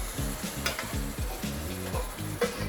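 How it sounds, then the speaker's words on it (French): Broth is poured over Paris mushrooms cooking in a pan, giving a steady close sizzle and bubbling as the liquid comes to a boil, with faint stirring and utensil sounds underneath. "Là vous versez le bouillon à hauteur sur les champignons."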